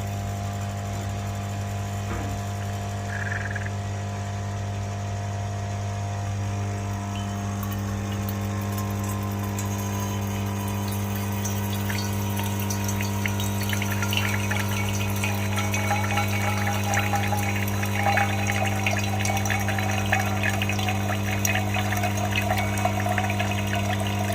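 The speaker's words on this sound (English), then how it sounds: "Right now it's actually filling the boiler" A Lelit Mara X E61 heat-exchanger espresso machine pumps water from its reservoir into the boiler, giving a continuous steady electric hum with gurgling and trickling water that grows slightly busier toward the end.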